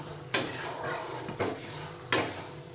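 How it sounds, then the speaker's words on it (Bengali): A spoon scrapes and knocks against a pan three times while jhal tomato is stirred. The strokes come roughly a second apart, close and fairly quiet, over a soft steady background. "এবার নাড়তে থাকতে হবে, নতুবা নিচে দিয়ে লেগে যেতে পারে।"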